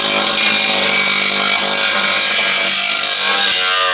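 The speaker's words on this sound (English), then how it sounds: "we have to cut an opening here to put the wrench to take the last bolt" A power tool cuts an opening in the front bumper of a 2001 Dodge Ram, giving a loud, continuous, close grinding and sawing roar that fills the whole stretch.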